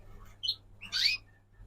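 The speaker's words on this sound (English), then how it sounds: "I've got 2 goldfinch here, 2 goldfinch cock." Two caged goldfinch cocks, birds from 2023, give a short high chirp followed by a louder, longer twittering call, close by in an otherwise quiet room with a faint low hum.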